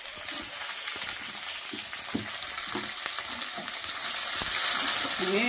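Curry leaves hit hot oil for a roadside-style shorva, crackling and spitting in a close, steady sizzle with sharp pops and scraping stirs, growing louder toward the end, with no talk.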